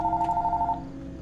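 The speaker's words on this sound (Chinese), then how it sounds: "哎，电话响了，我需要先接听电话。" A telephone in a horror video game emits a rapid, warbling electronic ring tone that pulses briefly and then cuts off, clear and close with a low room hum underneath.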